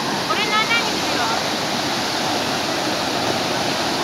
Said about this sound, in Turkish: Şelaleye bak.